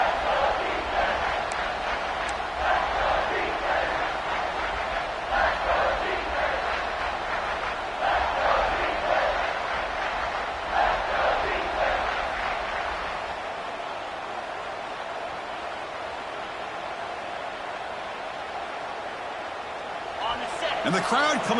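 College football stadium crowd roaring to back the defense in the red zone, a broad rising wall of cheers and yells in waves, fading toward the end before a brief new swell.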